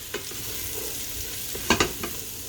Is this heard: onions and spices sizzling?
yes